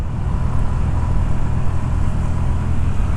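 Hero Destini 125 scooter engine held at full throttle while climbing a hill, a steady loud drone with low harmonic hum and wind rush, continuous without a break and no talking.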